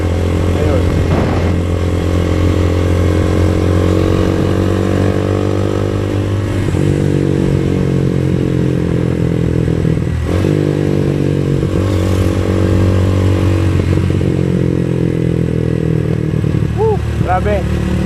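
A sportbike engine fitted with an Akrapovic exhaust muffler runs close and loud with a steady throbbing hum and a few light revs, while someone talks over it.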